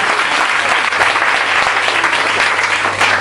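A church congregation at a Pentecostal service breaks into sustained applause, a dense even wash of clapping that stays loud from start to finish.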